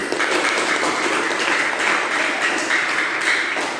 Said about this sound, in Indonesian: Tepuk tangan buat Dwi.